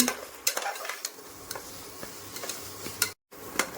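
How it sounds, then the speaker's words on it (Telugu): Ground spinach paste fries in a pan while a utensil stirs it, giving a steady close sizzle broken by repeated scraping clicks and taps against the metal. "ముందుగా గ్రైండ్ చేసిన పాలక్ పేస్ట్ని తీసుకుని మరో రెండు నిమిషాలు ఫ్రై చేయాలి"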